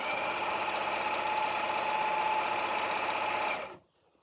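A sewing machine stitches an apron in one continuous rapid run of needle chatter and motor hum, close and steady for several seconds before stopping abruptly.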